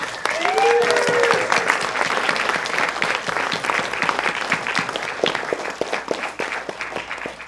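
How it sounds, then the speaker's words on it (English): An audience at a film festival conversation event applauds artist Geoff McFetridge, a full room of steady clapping that holds for several seconds before slowly thinning, with a brief voice heard near the start. "Can we have a round of applause for Geoff McFetridge?"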